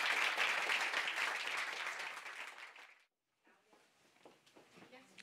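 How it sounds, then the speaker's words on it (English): Scientific conference audience applauds the panel members after a session on environmental science, a fairly loud burst of clapping that fades out, stops briefly, then gives way to quieter sparse claps and faint voices. "I would like to applaud our panel members."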